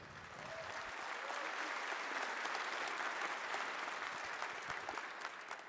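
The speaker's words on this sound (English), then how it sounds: "We got applause for being marginally less bad" Audience applause rises and holds as dense, even clapping from a large crowd, fairly faint and distant, with no talk over it.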